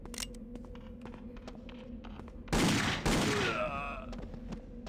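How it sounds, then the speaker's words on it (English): Rifle gunfire in Indiana Jones and the Infernal Machine video game: two loud, booming shots in quick succession with a ringing decay, over a faint background of rhythmic ticking and low hum. "Wait, you had a rifle and you still missed me?"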